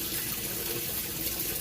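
Kenmore washer filling with water, a steady, dense rush of inflowing water with no break, close and constant throughout.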